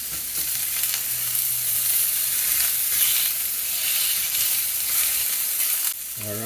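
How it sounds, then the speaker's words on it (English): Beef chorizo sizzles steadily in a hot pan for green chili enchiladas, a dense continuous frying hiss with light stirring, close and alone for about six seconds before a brief clink at the end. "go ahead and add your chorizo, break it down."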